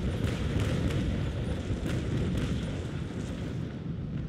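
A sailing warship fires a cannon broadside in the game Naval Action, a rapid string of heavy booming shots rolling together into a dense, loud barrage that tapers off.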